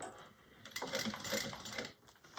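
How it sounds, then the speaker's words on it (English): A sewing machine runs briefly at moderate volume, stitching a few stitches on quilting fabric in a short continuous whir that starts and stops within about two seconds. "a few stitches over, and now I'm going to come back and stitch the other side."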